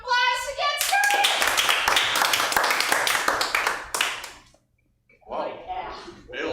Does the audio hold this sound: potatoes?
no